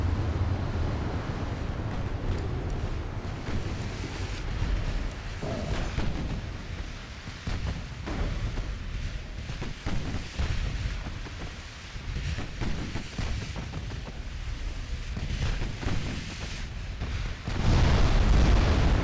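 Warship guns fire and shells explode in the Ultimate Admiral Dreadnoughts naval battle game, producing continuous heavy booming rumble with repeated blasts and a louder burst near the end.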